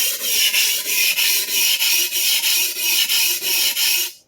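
A vintage Clyde Cutlery chef knife is drawn over a coarse sharpening stone in about nine even, rhythmic rasping strokes, loud and close, with no voices.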